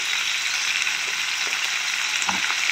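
Chillies and finely cut onions fry in a pan with a steady, close sizzle, broken by a few faint stirring knocks, and no talking.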